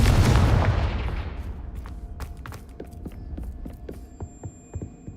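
Confringo blasting spell cast in Hogwarts Legacy, a loud rumbling blast that fades over a couple of seconds, followed by scattered crackling and mechanical clicks in the game's duel.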